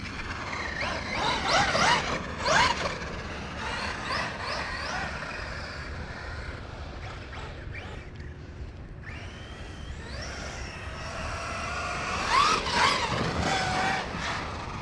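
An HPI Savage X Flux RC monster truck runs on its first outing, its brushless motor whining and revving in bursts as the truck speeds, skids and bounces nearby, with no talking.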